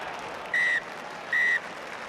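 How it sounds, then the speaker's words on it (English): A referee's whistle ending a rugby match between Ireland and Wales, two clear, loud, evenly spaced blasts of similar length over a low, distant crowd murmur. "Jérôme Garcés' whistle brought an end to proceedings"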